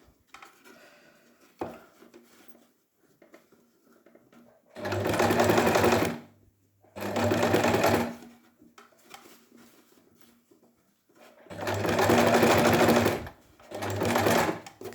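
Home sewing machine stitching a bias-bound neckline, running in four steady bursts of a few seconds each, loud and close, with quiet pauses and soft handling noises between runs.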